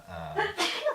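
A single short sneeze, a quick breath in followed by a sharp burst, close and clear, during a casual podcast chat, with a faint hum beneath.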